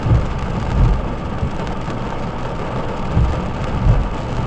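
Heavy rain falls steadily during a thunderstorm with lightning striking high ground near slick trails, the downpour hissing loud and close while low rumbles of thunder swell and fade underneath.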